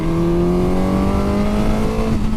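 A motorcycle engine revs hard and up close, its pitch rising and then falling back. The sharp, loud whine drowns out everything else.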